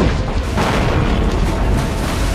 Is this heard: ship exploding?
yes